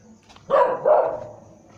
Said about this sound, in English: As you can hear the dogs barking.